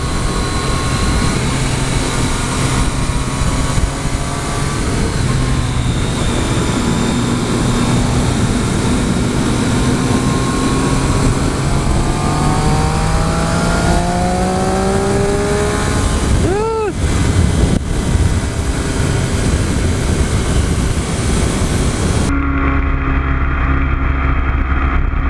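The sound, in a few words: 2014 Triumph Street Triple R motorcycle engine accelerating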